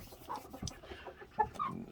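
Black Australorp and Orpington hens in a backyard flock give soft, low clucks and a few sharper notes, quiet and close, with no talking.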